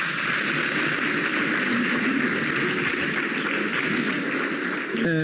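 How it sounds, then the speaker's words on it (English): Sustained, dense applause from an audience in a National Assembly chamber, steady and loud for several seconds before tapering slightly at the end. "Can we give her another round of applause"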